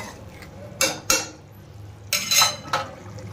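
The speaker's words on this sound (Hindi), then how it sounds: "मसाले को डालने के बाद में इसको अच्छे से मिक्स कर लेते हैं" Spoon scraping and clinking against a pan while masala is mixed into a round gourd (tinda) curry, several distinct scrapes in uneven rhythm over a soft sizzle, close and clear with no talk.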